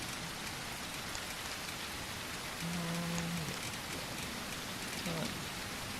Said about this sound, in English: Oh, the rain is super loud, though.